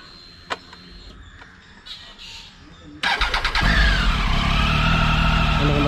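Triumph Tiger XR motorcycle with a three-cylinder engine: quiet clicks and shuffling, then the engine fires up abruptly and holds a loud, throbbing idle with slight revving, close to the microphone.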